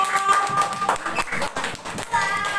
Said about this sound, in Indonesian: Kita beri tepuk tangan buat kelompok Supomo.